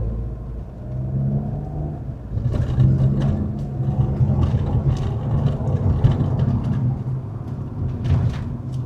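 Suzuki Fronx GL automatic 2026 accelerating hard on kickdown, a steady engine rumble rising in strength from inside the cabin, with road noise underneath.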